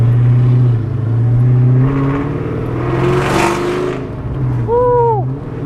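A Ford SVT Terminator Cobra with a full exhaust revs loudly and steadily close by, the throaty exhaust rising and falling with a brief whine near the end.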